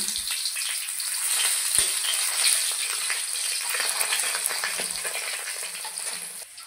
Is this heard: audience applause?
no